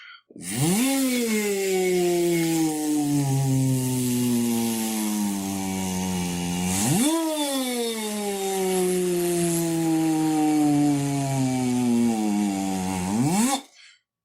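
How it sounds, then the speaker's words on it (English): A rowing machine's flywheel whirs loudly and continuously. The pitch surges upward with each stroke and slowly winds down between the two strokes. "produce that sound from the rowing machine if you continue to row"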